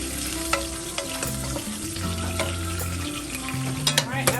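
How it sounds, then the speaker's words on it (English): A wooden spoon stirs sizzling smoked meat in a non-stick pot, with close scraping strokes and sharp taps on the pot over constant frying crackle. "I'm going to give the smoked meat a quick stir."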